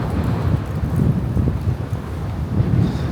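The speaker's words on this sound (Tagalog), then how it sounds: "Ang lakas na naman ng hangin." Strong wind by the Han River in Seoul buffets the microphone in heavy, rumbling gusts, a continuous roaring low noise with no voices.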